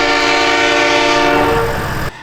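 Train passing close by with a loud sustained horn blast over rumbling rail noise, the horn fading near the end of the short burst, with no talk.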